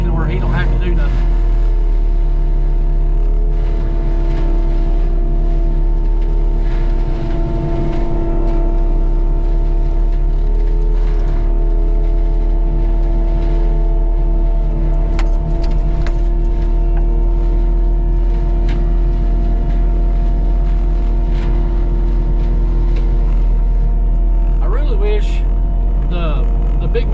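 Heavy forestry mulcher grinding brush along a property line being cleared for a fence, a loud continuous low diesel drone with steady harmonic hum and intermittent rough chewing, close by throughout.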